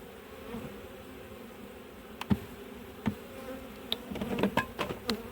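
Steady, close buzzing of many honey bees at an opened hive fills the clip, with occasional sharp knocks and clatters near the end.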